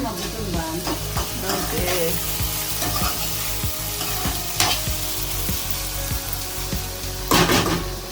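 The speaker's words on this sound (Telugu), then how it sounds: "టమోటా వేగుతున్నప్పుడే ఉప్పు కూడా వేసేయాలి" Tomatoes frying in a pan for palak paneer, a steady close sizzle with repeated stirring scrapes and occasional clinks throughout, no talk.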